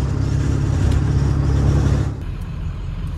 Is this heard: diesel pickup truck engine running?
yes